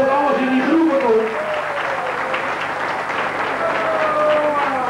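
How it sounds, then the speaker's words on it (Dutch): A crowd at a 1984 record presentation in Rucphen breaks into sustained applause, with a voice talking over the opening second before the clapping carries on alone. "Geef hem een stevig applaus,"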